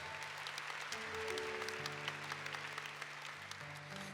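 Church congregation applauding the word of God, a dense round of clapping from many hands set against sustained organ or keyboard chords, moderately distant and fairly quiet.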